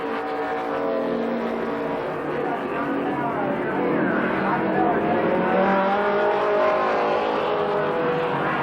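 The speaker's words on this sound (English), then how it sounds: "White flag, one more lap to go for your leader, car number 21, John Vallow." Race cars lapping at Columbus Motor Speedway in a 1993 main event, engines roaring continuously at full throttle around the track, loud and sustained, with a commentator talking over the noise.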